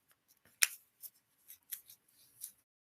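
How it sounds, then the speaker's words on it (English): A fortune cookie wrapper is crinkled and torn open in a few short, crisp plastic rustles and snaps, close and quiet, with pauses between. "Opening up the Fortune Cookie."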